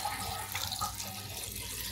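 Water streams steadily into a cooking pot holding banana flower and turmeric, a close, even splashing pour with no voices.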